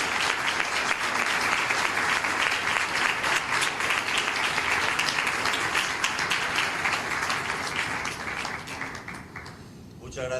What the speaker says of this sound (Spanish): Pues un aplauso para Guillermo.